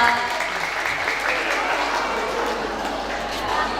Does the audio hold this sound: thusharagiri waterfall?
no